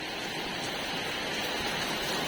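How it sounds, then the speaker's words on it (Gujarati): Heavy monsoon rain pouring down, a dense, loud, unbroken wash of noise with no gaps or voices over the short stretch. "કેટલું જોરથી વરસાદ આવે છે"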